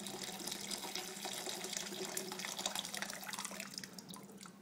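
Boiling water poured into a roasting tin, a continuous splashing, trickling pour that runs for several seconds at low volume with no voices.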